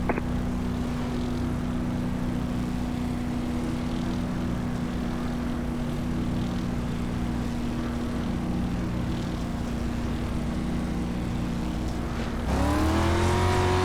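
Dirt street stock race cars at Knoxville Raceway in the iRacing game hold a steady engine drone, then rev up sharply near the end as they accelerate on the green flag. The sound is continuous and fairly loud.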